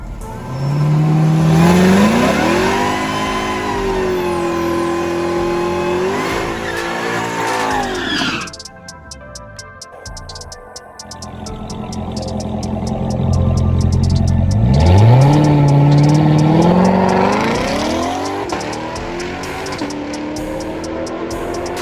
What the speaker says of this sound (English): I wanted to run a 9-second pass in the car